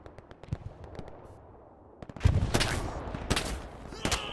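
Gunfire in the World War II shooter Hell Let Loose: a few scattered distant pops, then a loud burst of sharp cracks and rattling volleys that keeps going in bursts to the end.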